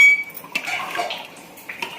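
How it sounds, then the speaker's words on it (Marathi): A metal spoon scrapes and clinks against a pot of khichdi with water in a few quick strokes. Close and clear, with no voices. "छान मिक्स करायचं याला"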